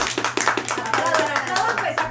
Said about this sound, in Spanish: Un aplauso, parcero.